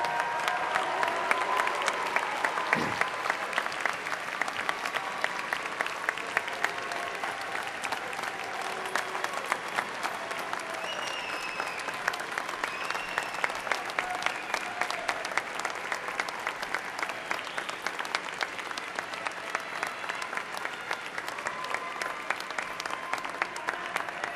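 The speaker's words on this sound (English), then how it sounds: "Please turn and give them a round of applause." Long, even applause from graduates in a large university commencement crowd, a broad continuous roar of clapping that holds steady for over twenty seconds with a few faint voices in the mix.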